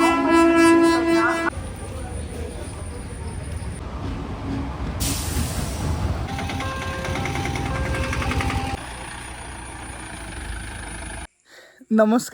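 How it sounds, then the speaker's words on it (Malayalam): Trains at Vadakara railway station rumble and hiss with air brakes, a horn sounding near the start, while someone speaks over the station noise. "ഞാനിപ്പോൾ ഇത് വടകര റെയിൽവേ സ്റ്റേഷനിലാണ്"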